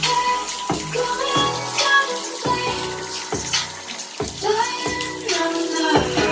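Water runs steadily into a tiled bathroom, a close, loud splashing rush with echo, broken by a series of sharp knocks and clunks.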